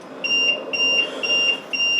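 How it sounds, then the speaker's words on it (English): An electronic machine beeps in a steady repeating pattern, sharp high tones recurring about every quarter second over a low background hiss. "I'm sorry about the beeping machine."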